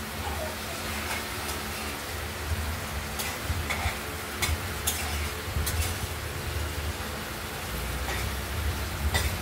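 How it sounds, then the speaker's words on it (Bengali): Spice paste with cumin, ginger and green chilli cooks down in a pan for a rohu fish and potato curry, a soft continuous sizzle with scattered scraping stir sounds, fairly quiet. "মশলাটা কষানো হচ্ছে"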